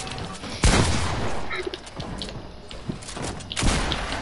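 A minigun firing in a video game, rapid bursts of gunfire with sharp thuds and mechanical clatter rising and falling, while players talk over it at times.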